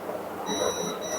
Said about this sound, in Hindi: एक साइड बीप आ रही है